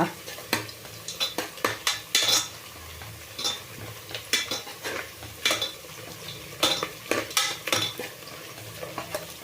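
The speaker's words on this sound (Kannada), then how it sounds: "ಈರುಳ್ಳಿ ಎಣ್ಣೆನಲ್ಲಿ ಚಂದಕ್ಕೆ ಫ್ರೈ ಆಗಲಿ" Onions frying in oil in a pan for wedding-style pulao, with a spatula scraping and clinking against the pan in irregular bursts over a soft, steady sizzle. No one speaks.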